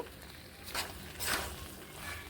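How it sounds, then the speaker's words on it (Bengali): Cauliflower and nut curry mixture being stirred in a pan with salt, a low steady sizzle broken by two soft scraping sweeps, close and quiet. "সবগুলোকে বেশ ভালোভাবে এইভাবে মিশিয়ে নিচ্ছি"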